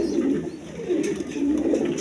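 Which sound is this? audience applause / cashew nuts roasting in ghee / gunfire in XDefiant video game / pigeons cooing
pigeons cooing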